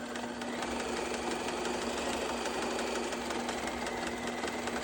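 Sewing machine running steadily while back stitching through fleece fabric, a continuous close mechanical hum with a fast even stitching rhythm and no talk.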